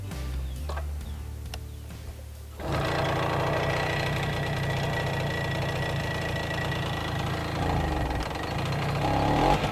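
A Tomos two-stroke moped engine, cold, starts up after a few seconds of quieter sound and settles into a steady, rapid rattling run at close range, with no talk over it.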